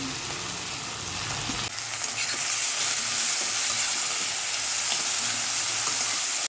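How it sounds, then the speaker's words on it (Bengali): Potato pieces frying in a pan with chopped green chili, a steady loud sizzle with stirring scrapes that jumps louder partway through and holds constant to the end, no talking. "প্রথমে আলুটা দিয়ে একটু ভাজা ভাজা করে"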